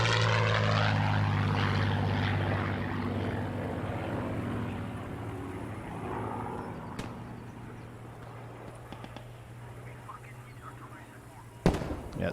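A Spitfire fighter in the Post Scriptum war game, its propeller engine droning low and fading as it passes over, with scattered pops and a sharp bang near the end.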